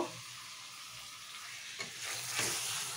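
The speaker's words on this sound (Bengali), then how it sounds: "দেখো আমি মাংসটা বসিয়ে দিয়েছি, মাংসটা রান্না হোক" Meat cooking in a pot sizzles softly and steadily at close range, swelling a little louder near the end, with no talking.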